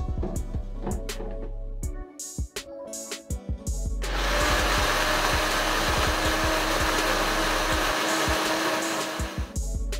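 Kitchen grinder whirring as soaked chana dal is ground into a fine paste for banana flower kofta, starting with bumpy intermittent pulses, then a loud steady roar.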